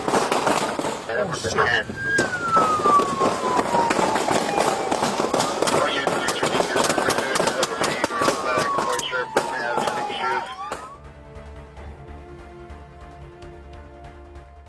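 Police and a suspect exchange gunfire: a rapid run of sharp, loud shots crackles for about ten seconds amid shouting and voices, then gives way to a quieter stretch with lingering sounds.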